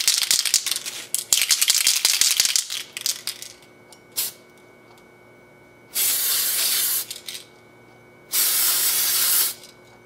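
Several bursts of aerosol spray from a can of Tamiya metal primer used to undercoat model metal parts: a burst of about a second and a half at six seconds and another near eight seconds, with rattling and handling before them.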